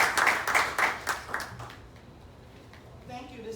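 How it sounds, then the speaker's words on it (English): Audience gathered for an emergency meeting on Bronx violence gives the Bronx DA a short round of clapping, strongest at first and fading within two seconds, after which a voice begins speaking. "Let's give her a hand clap."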